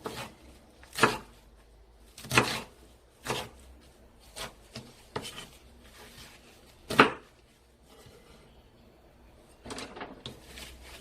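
A knife cuts tender perilla leaves on a cutting board in a kitchen, producing a series of soft, separate chopping taps at an irregular pace over a quiet background.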